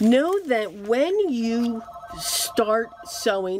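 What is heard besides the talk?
mobile phone ringing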